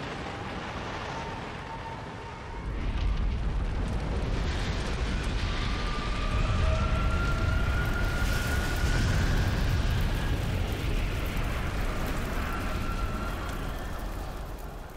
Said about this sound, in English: Listen to the sounds of flame.